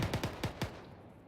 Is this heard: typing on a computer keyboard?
no